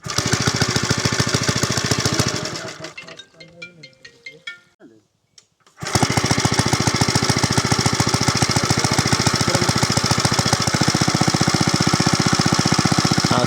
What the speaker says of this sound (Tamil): பெட்ரோல் இன்ஜினுக்கு மண்ணெண்ணெய்க்கு மாற்றி வச்சுக்கிறீங்களா